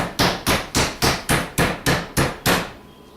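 Meat pounded to about a quarter inch thick with the flat side of a mallet: eight loud, evenly spaced thuds roughly a third of a second apart, each with a sharp smacking attack, then silence.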